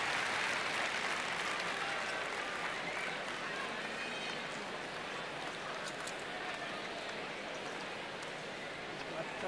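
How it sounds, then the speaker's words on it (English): Continuous cheering and applause from the crowd at the 1995 Key Biscayne final between Agassi and Sampras, a broad steady roar of clapping that holds at even strength throughout. "the crowd have got fired up too, and Agassi's 5-2 in the second set"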